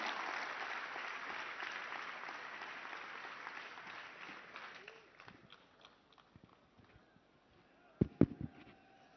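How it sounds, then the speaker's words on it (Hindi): Crowd applause for India's Home Minister Amit Shah at a Sardar Patel birth anniversary event, a broad clapping wash that gradually fades out over five seconds, followed by scattered thumps and a couple of sharp knocks near the end. "एक बार जोरदार तालियां माननीय गृह एवं सहकारिता मंत्री जी के लिए"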